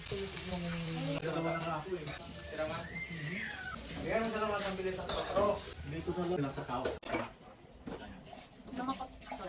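Food sizzling and frying in a pan as Daddy cooks at home in the province: a steady, bright hiss running under almost continuous chatter from people nearby.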